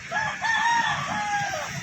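A rooster crows in a long drawn-out call among clucking chickens in a small coop, close and steady, with a faint hum behind.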